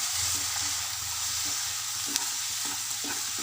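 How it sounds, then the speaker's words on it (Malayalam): Dragon chicken being stirred with a teaspoon of soy sauce in a hot pan, giving a steady close sizzle with repeated soft scraping strokes of stirring throughout, with no talking. "സോയാ സോസ് 1 ടീസ്പൂൺ ചേർത്ത് കൊടുക്കുകയാണ്. നന്നായിട്ടൊന്ന് മിക്സ് ചെയ്യാം."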